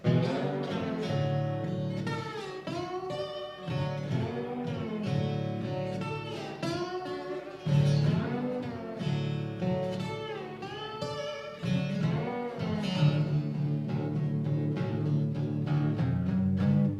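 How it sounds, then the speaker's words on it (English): A slide guitar played with a bottleneck plays blues with gliding, sliding pitches, each note bending smoothly into the next over a steady accompaniment. "they would take an old guitar and set it up for a slide"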